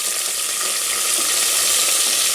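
Tomato and spices fry in a pan for village-style chicken sambar, a bright, steady crackling sizzle close up that continues without pause and with no talking.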